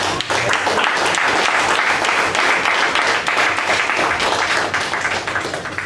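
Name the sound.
audience applause at Toastmasters meeting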